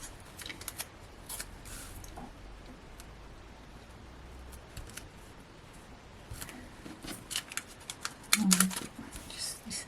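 Scissors snip through paper strips for a stained glass Christmas card craft, a run of soft, close cuts and crisp clicks scattered through the clip, with a little rustling of paper between them.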